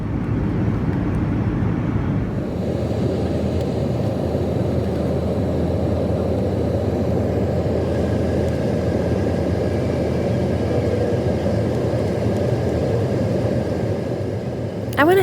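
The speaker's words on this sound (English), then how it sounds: "I went ahead and filmed our landing for those of you that have never flown before" Steady, loud airliner cabin roar during landing, a dense low rumble that shifts in character early on and then holds constant throughout, with no voices.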